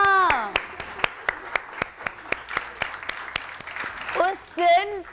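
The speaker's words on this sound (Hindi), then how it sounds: "बिल्किस साहबा के लिए बहुत सारी तालियां।" Studio audience applause for Bilquis on a Pakistani morning TV show, heard as a string of sharp, evenly spaced claps rather than a dense crowd roar, with a voice speaking over the end.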